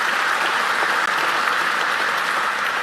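Audience applause at a State of the County Address for the 2024 county government, sustained and steady from a large indoor crowd, a dense even patter of clapping throughout.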